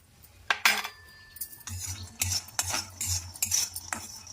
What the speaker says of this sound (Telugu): ఇప్పుడు మనం పల్లీలు వేయించుకుందాం స్టవ్ ముట్టించి కడాయి పెట్టి పల్లీలు వేయించుకుందాం